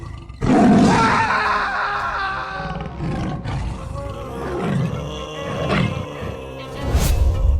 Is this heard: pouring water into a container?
no